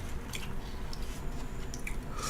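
Steady close chewing and soft squishy bites of Satsuma ramen from Shin-Sen-Gumi during a mukbang, continuous wet mouth sounds with no talking.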